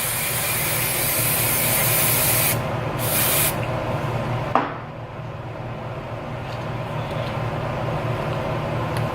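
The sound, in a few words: holding hair spray being sprayed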